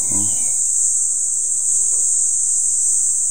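Wild honeybees at a high hive produce a loud, continuous, even buzzing drone that never lets up, with a brief low murmur of voice at the very start.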